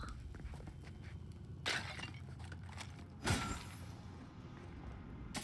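Objects smash in the video game Avowed: two sharp, bright crashes about a second and a half apart, breaking-glass-like bursts standing out over a steady bed of game sound.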